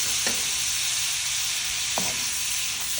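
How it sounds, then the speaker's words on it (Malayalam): Tomatoes sautéing with masala in a pan for pork roast give a dense, constant sizzle up close, with two brief scrapes of a spatula against the pan. "തക്കാളി എല്ലാം നല്ലോണം ഒന്ന് വഴറ്റിയെടുക്കുക."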